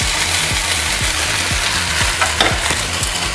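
Masala spice paste with a little dissolved cornflour frying in a pan for paneer satay, loud close sizzle broken by a quick regular series of spatula scrapes and knocks as it is stirred.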